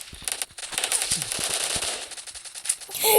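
Gunfire in the video game PUBG Mobile, with rapid automatic bursts crackling sharply and nearly continuously, ending in a louder final burst, with no talking.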